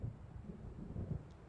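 Thunder from a storm rolling in within the video game Alan Wake Remastered, a low continuous rumble that swells and ebbs under a steady wash of wind or rain, heard on its own without speech.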